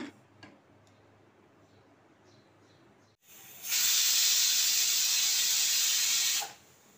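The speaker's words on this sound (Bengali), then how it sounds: "দিয়ে প্রেসারে গ্যাসে বসিয়ে আমি একটা মাত্র সিটি দেব।" A pressure cooker of water spinach on a gas stove whistles, a loud steady hiss of escaping steam that starts suddenly midway, holds for about three seconds and then cuts off, after a quiet stretch of faint kitchen ticks.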